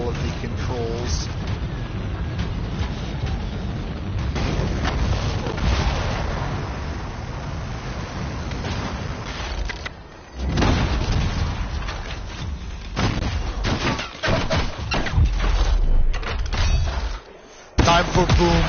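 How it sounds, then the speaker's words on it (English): Heavy booms and rolling blasts fill a shooter-style battle in the video game Anthem, with dense, overlapping explosions and gunfire nearly throughout. Someone talks over the action. "time for booms. Yes, big booms. Blow it all up."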